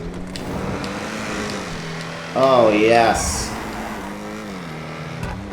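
An Ocelot Jugular, an all-wheel-drive four-door sports car in GTA Online, running through a tunnel: a steady engine drone that climbs in pitch, with someone briefly speaking over it midway.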